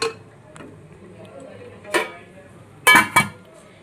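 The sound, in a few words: lid placed on cooking pot of egg curry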